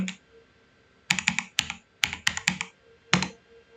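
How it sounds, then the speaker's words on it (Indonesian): Command typed on a computer keyboard to start an SSH session: short bursts of close, crisp key clicks with gaps between them, alone with no talking. "coba kita lihat, kita ketikkan perintah session"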